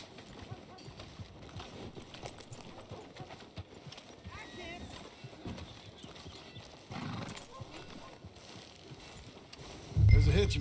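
Horse hooves clip-clopping along a street in the video game Red Dead Redemption 2, with voices talking over them and a short whinny near the end.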